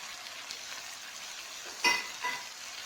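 Frozen mutton hits hot oil in a pan with a steady broadband sizzle, swelling into two brief louder bursts of spitting as the meat settles, no voices.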